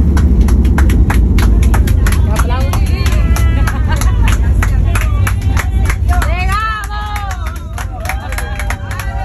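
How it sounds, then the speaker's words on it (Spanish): Passengers clap as an airplane lands, a sustained round of applause from a cabin full of people, with lively voices and excited chatter mixed in, easing slightly near the end. "siempre aplaudimos cuando aterriza el avión"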